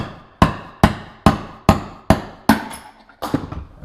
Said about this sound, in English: you take your hammer or mallet, and you basically punch that bearing out. Now it is quite loud with a full disc wheel like this